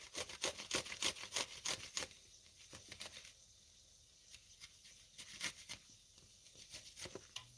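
Food is rubbed against a grater in quick, rhythmic strokes, each one a crisp scraping rasp. The strokes come in bursts, with a short pause in the middle, close up and fairly quiet.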